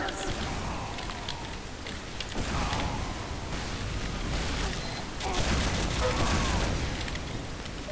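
Steady gunfire and explosions from a Team Fortress 2 match, continuous and busy, with repeated bursts and booms mixed with voices talking over the action.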